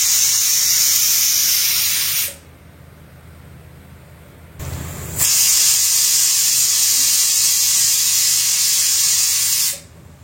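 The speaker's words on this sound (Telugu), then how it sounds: "విజిల్స్ చాలా కామ్ అండ్ డీసెంట్గా స్లోగా రావడం" Pressure cooker in a home kitchen releasing steam through its whistle, a loud close hiss that stops, resumes after a short muffled burst, then cuts off again.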